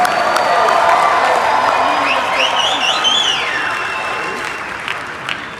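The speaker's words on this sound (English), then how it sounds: "Let's give them another round of applause." Convention-hall audience applauding loudly with some cheers and whoops, a dense sustained clatter that gradually fades near the end.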